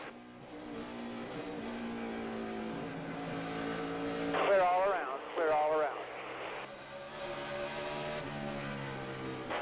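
NASCAR Cup cars race at Bristol, a dense, droning engine roar with sweeping pitch bends as cars pass, steady throughout under a radio spotter's voice calling out to the driver.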